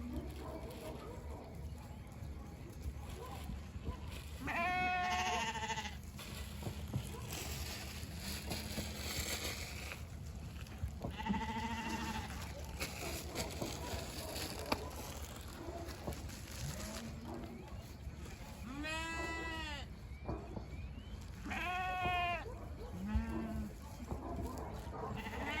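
Sheep rams bleat on a farm on a rainy day, several loud wavering calls spaced out over half a minute, some near and some farther off, amid steady background noise and occasional talk.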